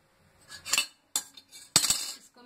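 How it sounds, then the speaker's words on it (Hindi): A metal stand set down inside a preheated pressure cooker for baking an eggless sponge cake, giving three sharp metallic clinks and scrapes, close and clear with no talking. "अब मैं इसके अंदर में स्टैंड रख देती हूँ"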